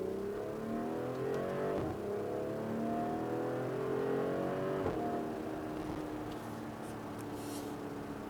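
A 2021 BMW X3 M40i in Sport Plus revs hard, its exhaust note sweeping up and down in pitch through several climbing pulls, loud and close, with no talking over it.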